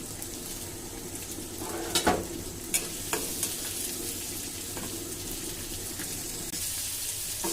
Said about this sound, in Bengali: পেঁয়াজ কাঁচামরিচ ভেজে নিব